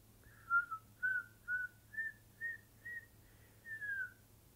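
A person whistles alone: eight short, wavering notes at a similar pitch, each a separate puff with small gaps between, fairly quiet against a low background hum.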